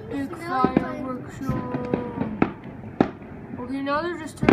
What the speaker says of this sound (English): Epic fireworks